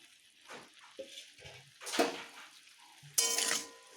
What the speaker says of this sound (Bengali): একটুখানি আমি জল দিয়ে নেব